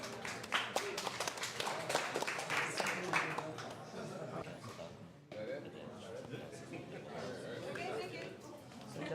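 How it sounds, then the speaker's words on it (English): Applause from a press conference audience, loudest in the first few seconds and then settling, mixed with steady crowd chatter and talking voices throughout. "Let's give them one more round of applause."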